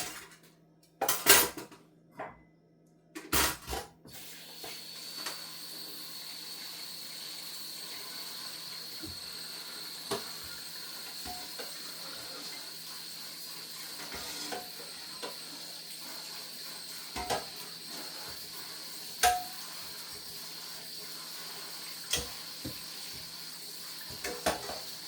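Dishes and cutlery are rinsed under a running kitchen tap, a steady stream of water with scattered clinks and knocks of crockery. It opens with a few louder clatters, then settles into close, continuous rinsing with no talking.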